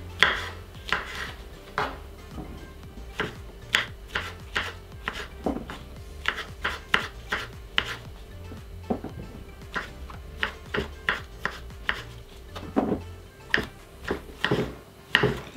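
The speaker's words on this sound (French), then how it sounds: "Donc là je coupe mes champignons." A knife slices mushrooms on a cutting board in a kitchen, with quick, uneven bursts of crisp taps and board knocks at close range.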